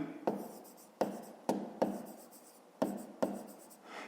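A pen scratches on paper while working through a maths exercise, a series of six short strokes with brief pauses between them, close and quiet, with no voice.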